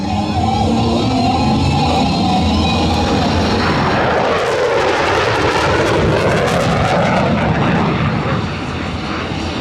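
A McDonnell Douglas Boeing F-15 fighter jet passes at an airshow in Dover, Delaware, its loud continuous roar swelling into a broad sweeping rush as it flies by, steady and powerful throughout.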